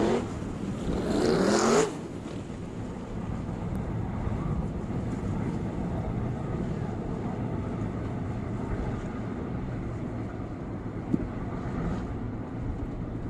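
Sprint cars forming up three-wide at a speedway meeting, a steady distant engine drone with wind buffeting the microphone at the start.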